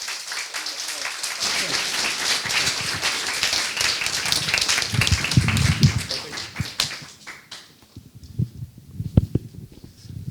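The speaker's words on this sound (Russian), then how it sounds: "Давайте громкими аплодисментами." Loud audience applause at a Russian-language webinar event welcoming a guest speaker, dense clapping that thins out toward the end as scattered claps, footsteps and voices begin to take over.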